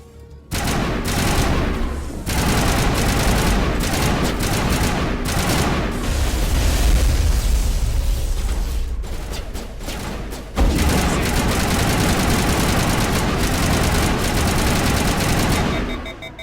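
Gunfire during a fight in the video game Mass Effect, with dense sustained bursts of automatic weapons and heavy impacts. The firing is loud and close, with a brief lull before it resumes.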